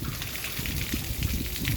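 Water drains out of a salt-clogged water tank, a steady close gurgling trickle and gush of liquid pouring continuously without pause.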